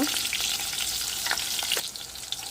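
Onions and cumin seeds frying in a pan for masala, a steady close sizzle running the whole time with a few soft stirring scrapes and pops.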